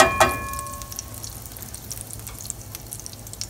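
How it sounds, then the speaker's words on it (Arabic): Butter melting into hot oil in a frying pan for Turkish shakshuka, a soft, steady sizzle with small pops and crackles after a brief clink at the start, close and alone. "خلي الزبدة تذوب مع الزيت"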